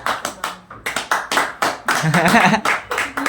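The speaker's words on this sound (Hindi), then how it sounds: "तालियां बजाओ, तालियां बजाओ" An audience claps in short rhythmic bursts at an award event, a few pairs of hands near and sharp, steady and brisk.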